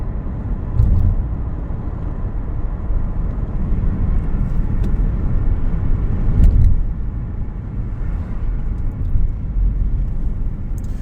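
A car drives along at steady speed, giving a continuous low road rumble and engine drone from inside the cabin, with a few brief bumps and thumps.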